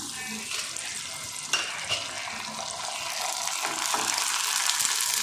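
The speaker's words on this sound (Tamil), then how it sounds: "இப்போ நான் அது உங்களுக்கு நான் வறுத்து காமிக்கிறேன்" Sun-dried tomato vadagam crisps fry in hot oil with a dense, continuous sizzle and bubbling, close and loud, with occasional scraping stirs and no voices.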